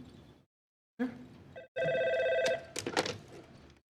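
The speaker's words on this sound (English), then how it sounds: "Can you answer a phone?" Telephone bell rings in bursts in an office setting, a legal aid service, loud and close, with brief speech before it.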